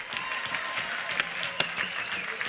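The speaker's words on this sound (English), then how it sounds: "give him a round of applause" Audience applause at a live comedy show honoring police chief Al Schmidt, a steady, moderately distant patter of many hands with a few sharper claps standing out, and no talk over it.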